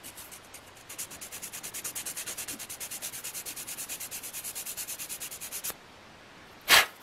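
Plastic parts from an Airfix 1:72 Nakajima B5N2 "Kate" model kit are sanded down with quick, rapid back-and-forth strokes, about forty in a steady rhythm, close and clear, ending in a brief louder scrape.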